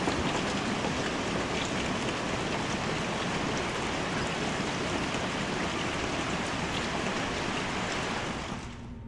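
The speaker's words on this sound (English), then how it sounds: "The rain is stopping." Steady rain falls outside an English hillside mansion, a dense continuous hiss of drops on surfaces that holds for about nine seconds and then drops away abruptly at the end.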